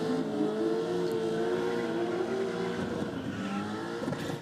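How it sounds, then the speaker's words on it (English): A Holden SLE Commodore doing a burnout at a drag racing event, its engine held at high revs in a loud, sustained roar with shifting pitch and tyre noise underneath. "what a burnout there from the SLE Commodore"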